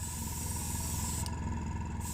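Enamel gloss red paint sprayed onto a model Matchbox Ford pickup truck, a steady close hiss running throughout with a brief change in tone partway, no talking.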